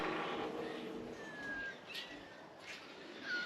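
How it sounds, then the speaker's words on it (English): Crimson rosellas at a bird feeder in Australia give a few faint, thin chirps and short whistles against a quiet outdoor background, with no talking. "They're crimson rosellas, and the more greeny looking ones are the babies."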